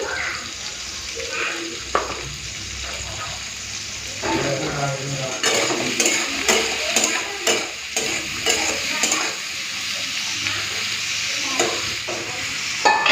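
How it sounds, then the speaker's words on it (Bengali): Steady oily sizzling of bitter gourd frying in mustard oil in a pan, with occasional stirring clatter, continuous and close throughout. "চলুন প্রথমে উচ্ছেটা ভেজে নিই"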